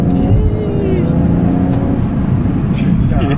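A BMW 135i accelerating on a night drive, its engine note rising steadily inside the cabin with a continuous loud drone, while people talk over it.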